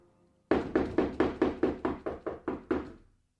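Ten quick, evenly spaced knocks rap on a wooden cottage door in a children's cartoon fairy tale, crisp and close, each with a short hollow decay, then silence.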